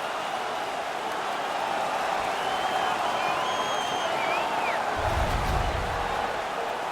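A hockey arena crowd in the NHL 18 video game roars steadily after a fight, a dense continuous cheer with applause and a low rumble swelling near the end.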